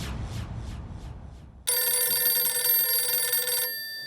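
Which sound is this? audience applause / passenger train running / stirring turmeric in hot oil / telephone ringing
telephone ringing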